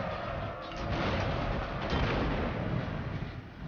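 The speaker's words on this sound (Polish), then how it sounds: "nasze działa. Kula armatnie." Dense, continuous rumbling bursts of cannon and artillery fire in Empire: Total War, with a heavy low-end roar, steady and loud throughout without any voices.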